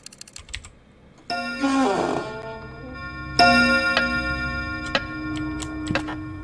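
Clock ticking in the horror video game Paper Dolls 2, a steady series of sharp ticks joined by bright ringing chime tones layered over a quiet background.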